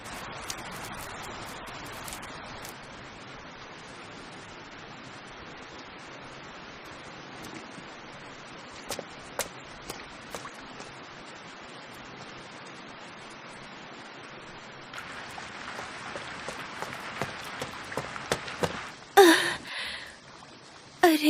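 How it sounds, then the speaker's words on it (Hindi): Steady rain falling outdoors, a soft continuous hiss that grows denser and louder near the end, with no talk over it. "फिर से बारिश शुरू हो गई है।"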